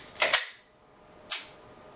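A snap cap drops free of a pistol with its slide locked back, giving two quick close metallic clicks, then a single sharper clack about a second later, with quiet in between.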